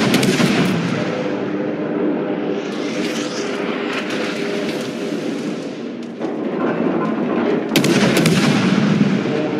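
Naval gunfire in World of Warships as a Fubuki destroyer's crew concentrates fire on a target: a dense, continuous barrage of cannon blasts and rumbling explosions, with sharp louder bursts near the four- and eight-second marks.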